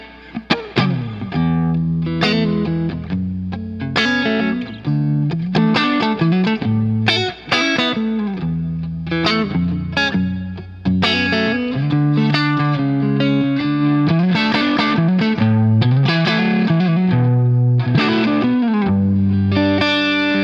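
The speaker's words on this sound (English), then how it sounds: "Let's turn on the plate reverb and play some clean stuff." An electric guitar plays clean chords and melodic lines through a plate reverb pedal on a pedalboard, loud and continuous with a lush, ringing tail for about twenty seconds and no talking.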